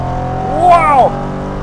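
Aston Martin Vantage GT8 engine on a race track, revving up and then easing off in a short pitch-sweeping rise and fall over a second, loud and close, with a steady drone underneath.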